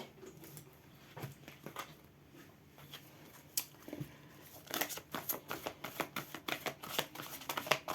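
Large tarot cards being shuffled by hand, starting as soft scattered rustles and building into a quick run of crisp riffling flicks and taps, close and fairly quiet.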